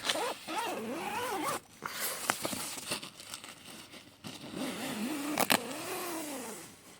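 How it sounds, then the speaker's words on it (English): A zip is run open on a Vango F10 Helium UL2 tent, with several rasping pulls and pauses plus fabric rustling, close and fairly quiet. "Would help if I actually did the right zip."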